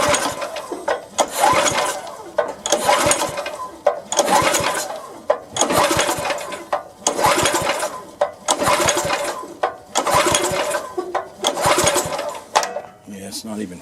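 A rototiller's small engine is cranked repeatedly with the choke half set and the throttle on fast: eight rhythmic bursts of pull-start whirring, each about a second long, separated by brief pauses, close and loud, never catching.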